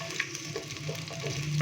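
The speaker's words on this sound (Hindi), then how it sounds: "प्याज को हम लाइट ब्राउन होने तक फ्राई करेंगे।" Finely chopped onion fries in hot oil in a pan, a soft continuous sizzle with light crackles, no voices.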